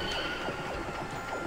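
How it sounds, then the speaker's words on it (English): A horse neighs in a medieval knights video game, a fairly faint whinny rising out of steady background game noise. "Oh, a horse."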